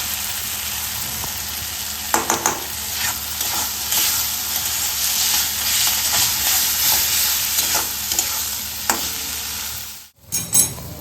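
A vegetable curry fries in oil while being stirred, with a close, constant sizzle broken by occasional scraping strokes and a brief drop to near silence shortly before the end.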